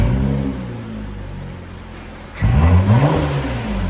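A 2022 Lexus ES 350 3.5L V6 with a muffler delete idles with a steady drone, then revs sharply, a loud throaty roar climbing and falling through two quick bursts.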